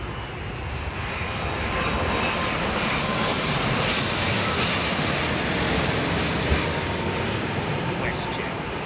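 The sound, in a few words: WestJet airliner landing at London Heathrow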